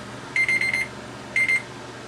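Phone alarm beeping during a PVC paint-scuff cleaning job, two bursts of rapid, evenly spaced electronic tones, the first longer than the second, over a low background hum.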